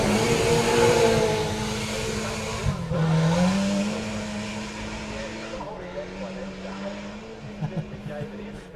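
A Toyota MR2 rally car at a forest rally sprint screams up a hill, its engine droning and rising in pitch through gear changes, heard moderately near with a commentator talking over it.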